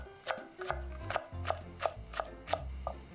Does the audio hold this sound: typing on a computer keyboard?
no